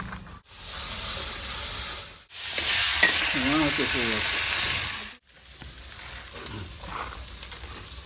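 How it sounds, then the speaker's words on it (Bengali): Ginger, garlic and green chilli paste sizzles in a hot pan with scraping stirs, broken by brief cuts, and a faint chirping call rises briefly in the middle. "আদা রসুনে 2 মিনিট ভালো করে কষিয়ে নিয়েছি।"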